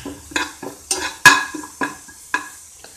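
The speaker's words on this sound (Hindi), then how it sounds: "घी हमारा गरम हो गया है, इसमें हम 1 छोटी चम्मच जीरा डाल लेंगे और जीरे को हम भून लेंगे।" A spoon stirs cumin seeds roasting in hot ghee in a metal pan, giving about ten sharp scraping strokes with faint sizzling in between and no talk.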